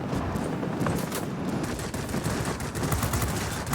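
Aircraft cannons firing in the video game World of Warplanes, rapid continuous bursts of gunfire crackling throughout at moderate loudness.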